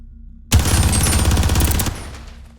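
Rapid automatic gunfire from the video game Vampire Hunters 3 erupts suddenly and loudly, a dense continuous burst of shots lasting over a second before tailing off into a short echoing decay.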